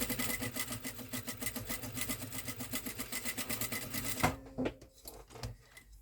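A sewing machine stitches fabric with a fast, steady mechanical rattle for about four seconds, then stops abruptly, leaving a few faint clicks and handling noises.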